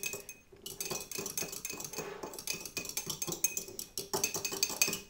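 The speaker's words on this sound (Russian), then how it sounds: "выбиваем одно куриное яйцо. Вот, и размешиваем" A table fork whisks one chicken egg in a bowl, beating rapidly in a fast continuous clatter of metal on dish with no talking.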